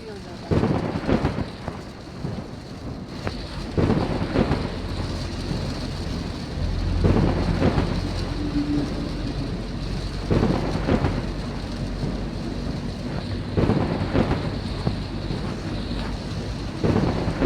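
Heavy rain and a thunderstorm with continuous wind-buffeted rainfall and deep rumbling surges of thunder, loud and close throughout; voices occasionally come through beneath it.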